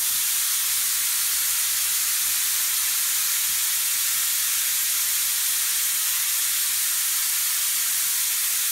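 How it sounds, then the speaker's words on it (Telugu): A pressure cooker lets off a loud, continuous steamy whistling hiss that holds steady and near for several seconds, with no voices over it. "కుక్కర్ విజిలేస్తుంది"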